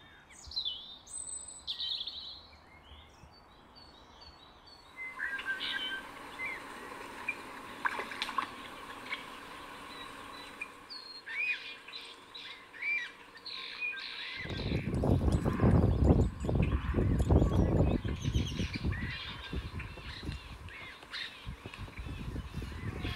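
Birds call and chirp across freshwater wetland habitat in a country park, scattered tweets early on, then a denser burst of calls over rustling and trickling water in the second half, with no talking.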